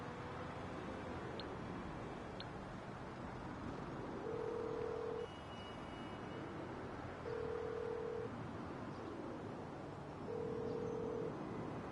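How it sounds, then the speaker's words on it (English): A phone ringing out in the GTA 5 video game: three steady, evenly spaced ring tones over a busy low background hum, each lasting about a second, with no talking. "let's ring up Miss Queen"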